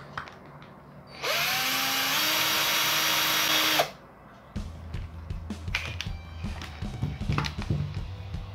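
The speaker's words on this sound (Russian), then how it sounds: "Ну и пробуем дальше сверлить." A power drill whines loudly for a few seconds as it bores into metal, then stops, followed by scraping and clattering handling noises.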